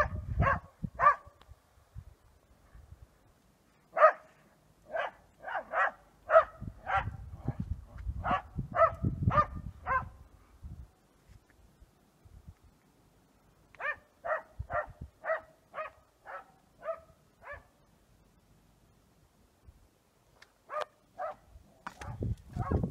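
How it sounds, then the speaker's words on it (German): Outdoors at a rocky night camp in Mauritania near Selibaby, a dog playing with a stone gives bursts of quick, yappy barks in clusters, close by, with scuffling and rustling between the barking spells. "Verrückter Köter spielt wieder mit einem Stein."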